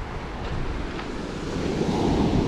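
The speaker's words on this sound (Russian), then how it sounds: "Обожаю шум моря, волну, когда идет накат волны." Sea waves roll ashore on the Crimean coast, producing a continuous broad wash of surf that swells slightly louder toward the end, with some wind rumble on the microphone and no voices.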